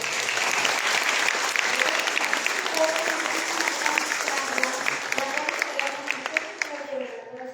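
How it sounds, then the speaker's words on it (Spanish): A church audience claps loudly for a priest after a talk, dense sustained applause that carries on for several seconds before thinning out, with a few voices faintly beneath it. "damos un fuerte aplauso al sacerdote"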